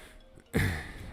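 A single sudden sneeze bursts out after a quiet moment, loud and close, then trails off in a breathy tail.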